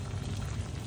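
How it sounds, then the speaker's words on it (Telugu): Boneless chicken with salt and chilli powder simmering under a lid in a covered pot, a steady soft bubbling hiss with no talk. "మిక్స్ చేసి మూత పెట్టి ఒక 5 మినిట్స్ ఉడకనివ్వండి"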